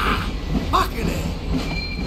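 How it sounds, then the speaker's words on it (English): A train in Grand Theft Auto V rumbles steadily with rail noise and a faint wheel squeal, heard as a continuous low roar without clear voices. "Let's hop the train."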